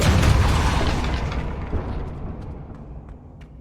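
A Depulso spell goes off in Hogwarts Legacy, a single deep, loud booming burst that rolls and decays over a few seconds.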